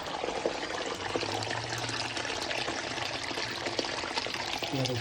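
Water leaks into a house crawlspace, a continuous close trickling and pouring with a steady splashing texture and faint voices in the background.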